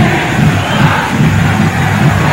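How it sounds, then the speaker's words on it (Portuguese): Palmeiras supporters in the stadium during the 1994 Campeonato Paulista match against Ituano, a loud sustained crowd roar with rhythmic chanting swells heard from a distance. "Ouça aí a torcida do Palmeiras"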